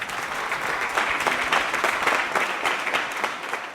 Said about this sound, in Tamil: மேகம் போல கூட்டமா ஒரு கைத்தட்டல் கொடுங்க